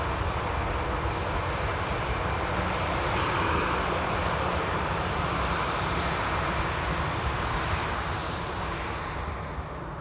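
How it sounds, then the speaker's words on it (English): A Lufthansa Airbus A380 rolling out on runway 23 right at Manchester Airport produces a constant, heavy jet engine rumble and roar, heard from a distance, steady for the whole stretch with no talking. "Lufthansa as well, an Airbus A380 just rolling out on 23 right."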